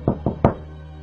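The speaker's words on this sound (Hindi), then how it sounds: "लेकिन कुछ ही देर बाद बाहर का दरवाजा बजा।" Three quick, close knocks land on an outside door, the third one hardest, followed by quiet.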